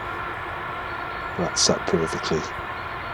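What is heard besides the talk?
train passing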